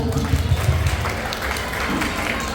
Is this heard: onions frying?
no